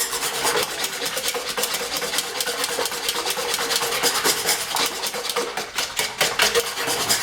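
Electric mixer emulsifying a homemade coriander and chilli boilie mix, a loud continuous motorised whir with rapid gritty pulsing as the beaters churn the thick paste, steady for several seconds with no talking.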